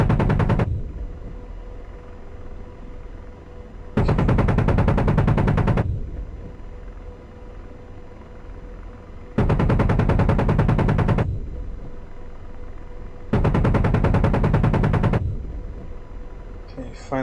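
Machine gun bursts from an AH-64D Apache attack helicopter in the DCS combat flight simulator, four sustained loud rattling volleys of roughly two seconds each, separated by steady helicopter rotor and engine drone.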